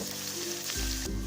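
Sliced garlic and chopped ginger sizzle briskly in hot oil for a Kerala prawn roast, a close, continuous frying hiss that swells slightly partway through.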